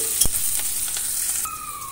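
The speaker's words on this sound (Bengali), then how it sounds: "আবার একটু নাড়াচাড়া করে নিলাম।" A spatula stirs frying onion and chopped green chilli in a pan: a loud knock against the metal near the start, then scraping strokes over a bright, continuous sizzle.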